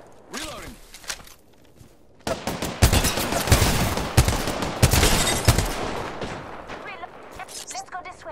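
Bursts of rapid automatic gunfire and single shots ring out in the video game Apex Legends, loud and close, with short quiet gaps between volleys and a player's voice talking between the shots.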